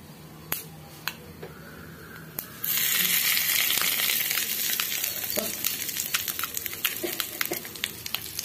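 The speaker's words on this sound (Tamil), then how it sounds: "பாருங்க இந்த கடுகு நல்லா பொரிஞ்சிச்சு" Mustard seeds splutter in hot oil in a small pan, scattered sharp pops at first, then a loud bright sizzle flaring up with rapid crackles and snaps continuing to the end.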